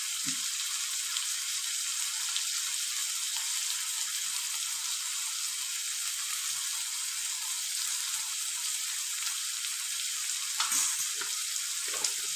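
A mixture seasoned with salt and turmeric sautés in a pan, a continuous bright sizzle and crackle throughout, with occasional soft scrapes and stirring knocks near the end and no talking.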